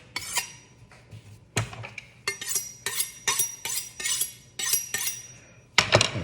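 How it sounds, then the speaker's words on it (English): A chef sharpening a knife edge, with a series of quick, bright metallic scrapes repeating in an uneven rhythm close by, ending in a final louder stroke. "Chef is gonna put that edge on his knife"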